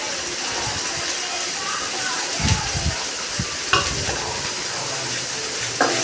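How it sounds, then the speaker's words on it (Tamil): Peeled onions are sautéed in a pan for a fish curry, giving a loud, continuous close sizzle. Spatula scrapes and knocks come every so often as the pan is stirred. "அந்த உரிச்சு வச்ச வெங்காயத்தை போட்டு கொஞ்சம் நல்லா வதக்கி எடுத்து வதக்கிக்கோங்க"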